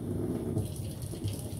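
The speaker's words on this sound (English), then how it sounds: "just wetting my stone." Water splashed over a sharpening stone while a custom 52100 steel Chinese cleaver is being sharpened: a steady, close rushing and trickling wash with no voices.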